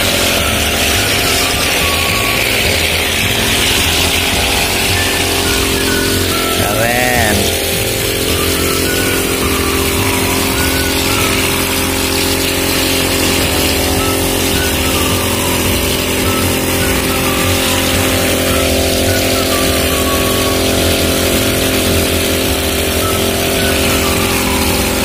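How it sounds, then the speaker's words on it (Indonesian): A Makita petrol grass trimmer fitted with cable ties as cutting line runs continuously while cutting grass along a sidewalk edge, a loud, steady buzzing engine drone with slight shifts in pitch and load throughout. "Menggunakan mesin Makita, bahan bakarnya Pertamax."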